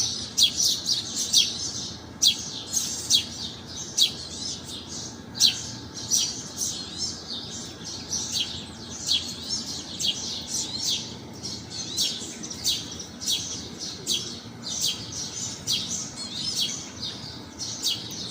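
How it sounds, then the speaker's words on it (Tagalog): Birds chirp repeatedly in quick bursts, fairly close and clear over a quiet outdoor background, continuing throughout without talk. "yung naririnig kong tunog ng ibon"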